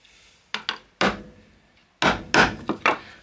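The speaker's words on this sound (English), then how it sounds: "And then you chip away the material you don't want." Chisel chipping wood out of a hinge recess, a few sharp knocks and splintering impacts in irregular bursts, close and fairly loud, with quiet gaps between strokes.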